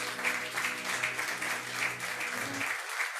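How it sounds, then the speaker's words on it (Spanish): Applause from a church congregation at the close of a worship service, a steady wash of many hands clapping together for a few seconds, fairly loud and close before it cuts off abruptly near the end. "Un aplauso al Señor."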